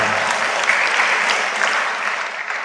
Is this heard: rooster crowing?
no